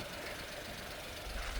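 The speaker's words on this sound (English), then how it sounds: "And the motor, it just sounds great." Idling engine of a Suzuki dump truck running steadily up close, a low continuous rumble with a slight knock that swells a little louder near the end.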